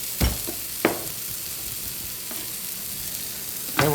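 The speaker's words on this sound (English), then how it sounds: "Okay, we're going to saute this." Shallot, garlic and porcini mushrooms sauté in a pan, a steady low sizzle running throughout with a few sharp clinks or stirring knocks near the start and end, close and without talk.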